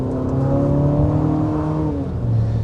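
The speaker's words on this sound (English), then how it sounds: "It's a new variable compression 2-liter turbocharged 4-cylinder engine." A 2026 Infiniti QX60 Sport's variable-compression 2-liter turbocharged four-cylinder whirs steadily under acceleration, its tone climbing smoothly and then stepping down once, heard alone without talk.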